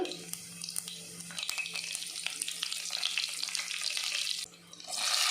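Garlic and curry leaves sizzle in hot tempering oil for a home-style tomato saaru, a bright, steady frying hiss with crackles and a brief dip before the sizzle swells again.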